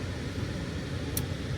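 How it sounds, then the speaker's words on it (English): A car's air conditioning fan blows hot air inside a hot parked car, a steady close broadband whoosh that holds evenly throughout with a brief faint hiss near the end. "Oh, it's blowing hot air on me."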